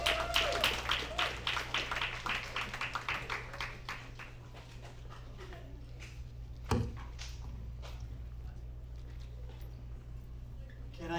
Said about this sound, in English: Can I get another round of applause for Paul?